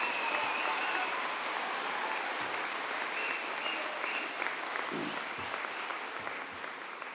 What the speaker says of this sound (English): please join me in another round of applause to congratulate this section of the Henry Wisewood graduating